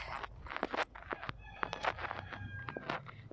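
Free-roaming chickens gather at Mallory Square in Key West, with clucks, squawks and a crowing call in quick, irregular bursts, fairly close and moderately loud over outdoor background noise.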